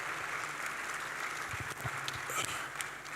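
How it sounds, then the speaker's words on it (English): Applause from a conference audience at the All Africa Pension Summit 2025, a steady wash of clapping held at moderate level throughout with no voices over it. "Let's give them both a round of applause."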